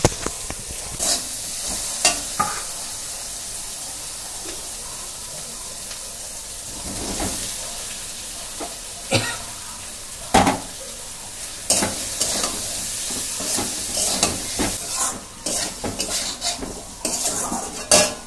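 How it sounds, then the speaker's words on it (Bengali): Egg, potato and soy chunks sautéed in a pan for an egg curry, with a spoon stirring and scraping against the pan over a steady sizzle and frequent metallic clinks, close up and without talk. "ডিম, আলু, সোয়াবিন সব দিয়ে দিয়েছি, এবার একটু কষে নেবো"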